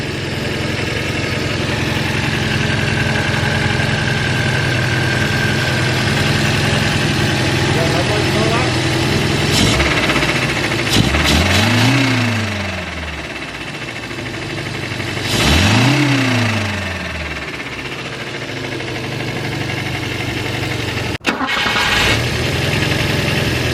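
Volvo 144S engine with twin HS6 SU carburettors and a suspected exhaust leak, idling with a steady low rumble, then revved twice in rising-and-falling swells before settling back to idle, with a brief sharp click near the end.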